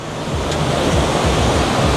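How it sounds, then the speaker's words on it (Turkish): Rough sea waves roll onto a tropical island beach, a continuous loud wash of surf mixed with wind noise, with no voices. "Su bayağı dalgalı."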